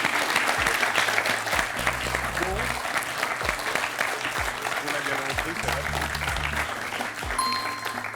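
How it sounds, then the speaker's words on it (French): A studio audience on the French quiz show Questions pour un champion applauds contestant Lydie, a dense sustained roar of clapping that runs throughout, with a host's voice speaking over it. "Applaudissons Lydie."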